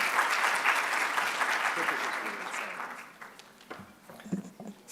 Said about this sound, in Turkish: Alkışlarınızla tabii ki